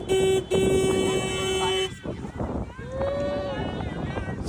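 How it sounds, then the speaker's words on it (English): A boat owner sounds a loud, sustained horn in two long blasts, followed by shouting voices, wind buffeting and a fainter, wavering tone. "that's the boat owner honking to get the attention"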